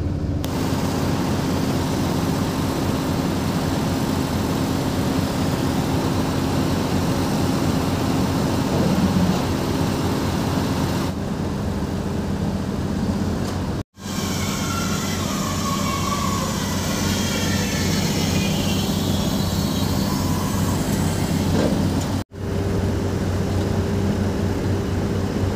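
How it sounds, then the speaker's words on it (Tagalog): A crane engine runs steadily while pipes are loaded onto a trailer, a constant loud low rumble throughout with brief dropouts, no talking. "Ayan, mag-sitting sa kanyang crane at mag-loading kami ng pipe."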